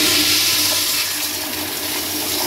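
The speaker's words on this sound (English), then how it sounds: "Geez, that's a loud toilet." A loud 1985 Crane Placidus toilet flushes in a park restroom with a strong, close rushing of water that carries steadily through the clip, without talking.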